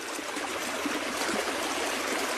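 Creek water flowing in a steady, close rush and trickle, constant in level and with no voices.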